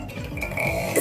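A girl's burp rumbles for about a second, loud and close, rising at the end into a stronger throaty belch with no talking.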